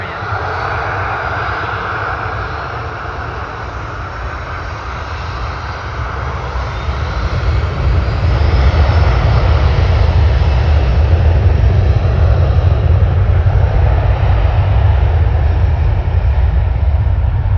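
Air North airplane taking off at Vancouver airport: a steady, loud low engine roar that swells stronger partway through and holds at full power, with no talk over it.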